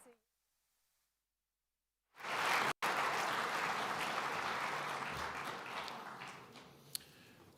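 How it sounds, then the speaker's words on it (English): Audience applause at the Global Ireland Summit 2025 for a government minister: after a couple of seconds of near silence, a full room breaks into steady, sustained clapping that holds at an even level to the end. "Please give him a warm round of applause."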